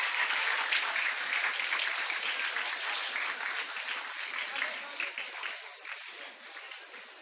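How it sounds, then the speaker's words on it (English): An audience at a school felicitation ceremony for Class X achievers applauds a student, a dense, steady wash of clapping that slowly thins and softens over several seconds. "Congratulations and a round of applause"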